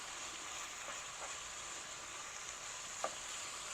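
Ground beef, green peppers and onion fry together in a pan, giving a soft, steady sizzle throughout with a faint clink near the end and no talking.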